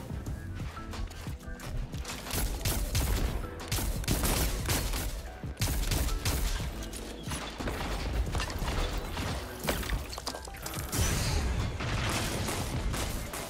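Close-range sidearm gunfire from the Drang in a Destiny 2 Trials match, with dense, rapid shots running nearly the whole time among loud game effects and clatter.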